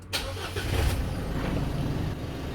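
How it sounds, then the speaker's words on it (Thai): A key turns in an Isuzu D-Max 1.9 and its engine cranks with a sharp burst, catches and settles into a steady, close idle rumble. "เสียบออนบิดสตาร์ทนะครับ"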